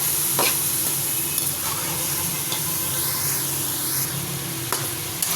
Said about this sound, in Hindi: अब इसमें डाल देते हैं प्याज। इसको 5 मिनट तक फ्राई करेंगे।